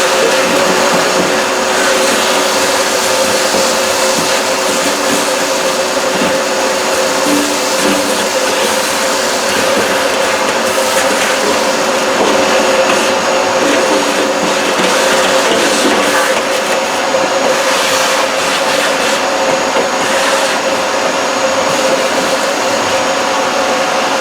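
Shop vacuum cleaning out a K4L drum cooker, a loud steady roaring whoosh that runs close and unbroken throughout, with slight shifts in tone as the nozzle moves.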